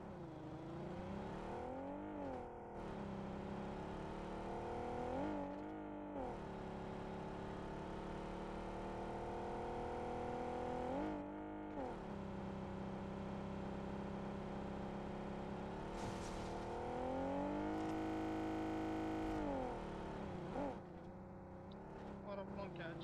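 A car in the mobile video game PUBG Mobile drives along, its engine droning and repeatedly revving up and easing off as gears shift. The sound stays steady and moderately loud throughout.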